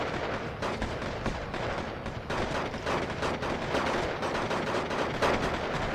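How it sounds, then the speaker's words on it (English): Rifle fire in the video game Steel Division 2 during a 1vs1 battle with a Hungarian reserve division: a sustained, dense crackle of overlapping shots and volleys with no pauses, at a steady, fairly loud level. "Mostly rifles."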